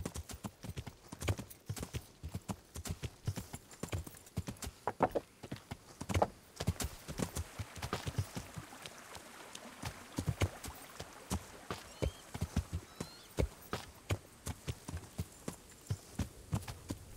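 A horse's hooves clip-clop in a steady trotting rhythm throughout, moderately close, in the medieval video game Kingdom Come: Deliverance, with faint ambient hum beneath.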